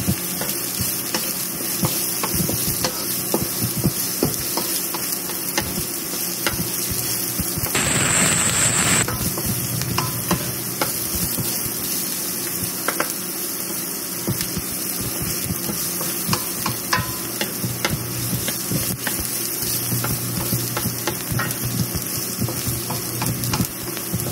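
Garlic sizzles steadily in hot oil while being fried until golden brown, a dense continuous crackle with occasional stirring scrapes and a brief louder burst midway, close and unbroken, with no talking.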